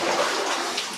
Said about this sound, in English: Zigzag the water coming down.